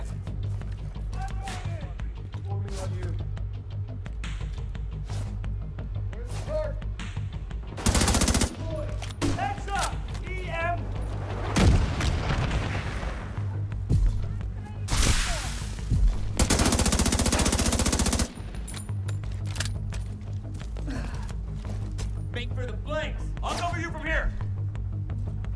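Heavy automatic gunfire from The Division 2, bursts of rapid shots and loud explosive blasts during a firefight at Jefferson Plaza, with game music and a voice speaking over the action.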